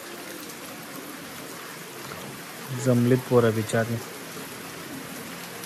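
Rain falls at night in a village during a festival, making a steady wash of patter and trickling close by. Someone talks briefly over it partway through.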